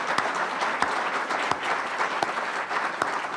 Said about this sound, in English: Please give them a warm round of applause.